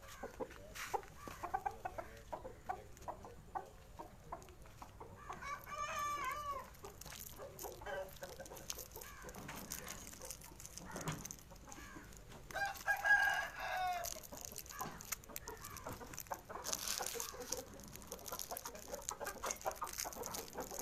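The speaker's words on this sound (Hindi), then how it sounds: "ये सिंधी मुर्गे हैं जी।" Several Sindhi fighting roosters crow repeatedly, loud and fairly close, with clucking and farmyard bird calls scattered between the crows and no talking.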